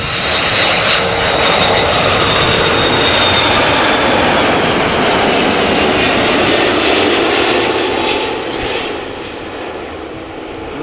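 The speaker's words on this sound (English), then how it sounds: "Airbus A330 300 KLM flight" A KLM Airbus A330-300 widebody jet arriving from Bonaire at Amsterdam roars loudly and steadily as it passes close overhead, with a high engine whine riding on top before the noise starts to fade near the end.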